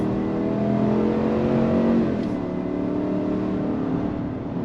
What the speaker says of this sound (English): We're gonna go on throttle again. On throttle, here we go. Drops down and we're off.